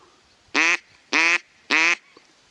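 Three evenly spaced, loud nasal quacks from wild ducks sitting close under a riverbank, each call short and harsh, separated by brief quiet gaps over a faint outdoor background.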